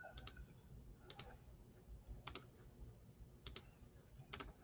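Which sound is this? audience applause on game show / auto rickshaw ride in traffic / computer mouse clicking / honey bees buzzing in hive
computer mouse clicking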